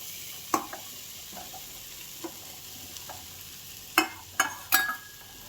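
Cooked rice stirred into fried fenugreek leaves in a pan for rice bath, a quiet sizzle under scattered spoon scrapes and clinks, with a cluster of sharper knocks near the end.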